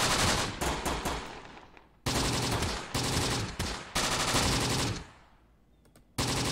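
Dense machine-gun and rifle fire from a World War II tactical battle in Tunisia in Close Combat: The Bloody First, loud sustained bursts broken by short pauses, fading toward the end before another burst cuts in.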